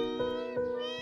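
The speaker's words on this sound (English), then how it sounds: "I can meow!" A cat meows in the Copycat video game, a sustained, tonal, rising-and-falling cry lasting about a second, close and clear with no talking.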